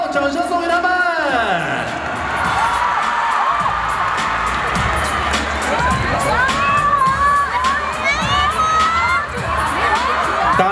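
A packed studio audience at the Street Dance of China competition roars for the dancers of Wang Yibo's team, with sustained loud cheering, high-pitched screams and whoops, and scattered clapping throughout, dense and close with no let-up.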